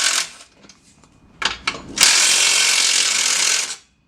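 A power tool loosens an exhaust fastener during an AWE exhaust install on a B8 Audi S4: a few short bursts, then a steady whirring run of nearly two seconds, close by.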